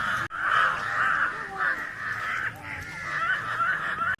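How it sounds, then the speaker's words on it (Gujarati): Crows caw repeatedly nearby at a temple site, their harsh calls overlapping in a busy chorus over a low background murmur. "જો આવ્યો કાગડો અને આખા ઓલામાં કાવ કાવ કાવ કરે છે"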